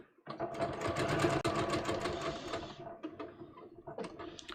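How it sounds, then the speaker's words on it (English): A home sewing machine stitches fabric for a cozy wrap in a steady, rapid mechanical run of close needle clatter, pausing briefly near the end before a few short bursts resume. "I am going to start sewing"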